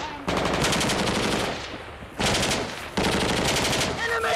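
Gunfire in a firefight from a rooftop position: loud bursts of rapid automatic fire in three sustained strings, separated by brief lulls, close and harsh.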